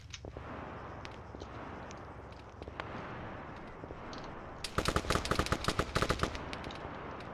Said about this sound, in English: Being very cheeky with the sharpshooter rifle. Fires a few shots.